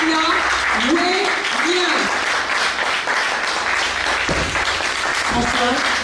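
Warm audience applause welcoming the honorable Yasmina Ouegnin to a Meet & Greet Africa event, a dense steady wash of clapping under a voice calling out over it.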